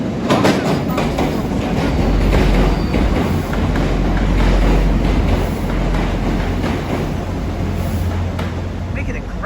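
A Class 175 diesel train pulling into Wrexham General station, a loud steady rumble with rhythmic wheel clatter across the rails, a voice talking over it.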